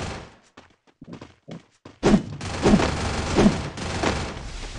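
Gunfire in the video game Garena Free Fire: a few sparse muffled thumps, then a dense, loud run of rapid shots with heavy booming impacts, with no talking.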